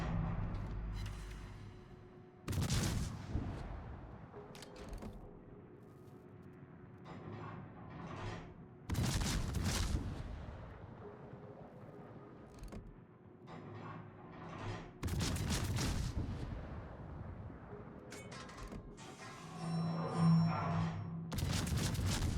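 Deep booming salvos of high-explosive naval gunfire in the World of Warships game, each roaring volley followed by a long rumbling decay, repeating every several seconds over a quiet mechanical background.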